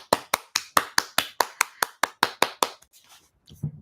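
A round of applause rendered as about a dozen crisp, evenly spaced hand claps, close and loud in a steady rhythm, breaking off abruptly and followed by a faint low murmur.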